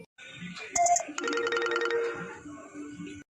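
A phone ringtone plays a bright electronic melody, close and clear, with a voice speaking briefly at the start and end.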